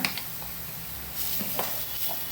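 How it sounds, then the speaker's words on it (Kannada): Grated coconut with turmeric powder fries in a pan for Karavali-style pathrode, with a steady close sizzle and occasional light scrapes of stirring. "ಹಾಕ್ಕೊಂಡು ಚೆನ್ನಾಗಿ ಇದನ್ನು ಫ್ರೈ ಮಾಡ್ಕೊಳ್ಳೋಣ"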